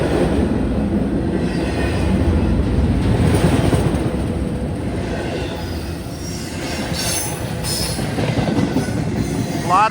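A train passing close by at Madisonville, Kentucky, a loud steady rumble of wagons rolling over the track with faint wheel squeal throughout.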